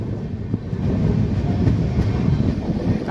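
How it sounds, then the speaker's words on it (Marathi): The Bhagat Ki Kothi Express pulls out of Hingoli station, heard from on board as a close, steady, loud rumble of rolling wagons with faint rhythmic clatter. "1 मिनिटाच्या स्टॉपनंतर मित्रांनो आपली ट्रेन हिंगोलीवरून निघालेली आहे"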